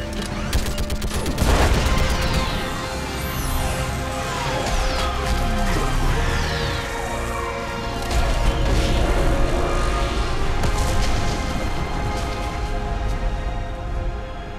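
Dense, continuous gunfire and repeated crashing explosions from a battle against a live Reaper in the Mass Effect video game, loud and close throughout with a heavy impact burst near the start.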